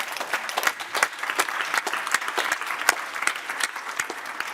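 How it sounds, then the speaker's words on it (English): Applause from a conference audience closing a panel session. Many hands clap evenly and steadily at moderate volume throughout. "Please join me in a round of applause."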